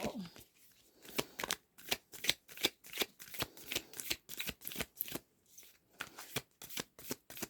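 Repeated crisp riffling bursts of tarot cards being shuffled, close and fairly quiet, with brief pauses between shuffles.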